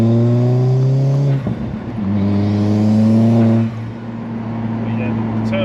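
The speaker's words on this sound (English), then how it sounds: "that turbo noise, guys, it sounds really good." Tuned 320 bhp Alfa Romeo Giulietta turbo petrol engine revving in steady sustained pulls with a gear change and rising turbo whine, loud and near, with voices talking over it.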